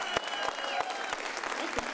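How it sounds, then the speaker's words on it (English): Scattered applause from a small audience at a fight night event, a handful of distinct claps standing out over a busy room murmur. "Give him a round of applause"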